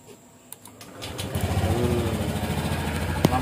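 A black 2022 Honda Scoopy Sporty scooter starts after a few faint clicks, its small engine catching and settling into a steady, close, buzzing idle.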